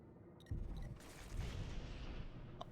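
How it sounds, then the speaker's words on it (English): Gunfire and booming shots in a video game battle, a sudden loud onset followed by sustained rumbling fire of moderate loudness, fairly distant. "Oh, someone else is shooting it."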